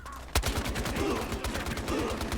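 Rapid automatic fire from a UMP 45 submachine gun in the Battlefield Hardline multiplayer game, a loud sharp shot followed by a steady stream of closely spaced bursts.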